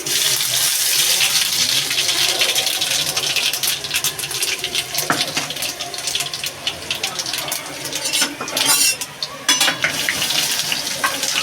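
Mustard seeds and garlic sizzle in hot oil as a Bengali tadka is tempered, a dense steady hiss with crackles and stirring scrapes running throughout.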